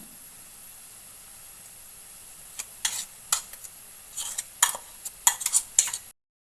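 Coconut stirred in a pan over a low flame, a few soft scattered scraping and clinking spoon strokes over faint background hiss, starting after a quiet stretch.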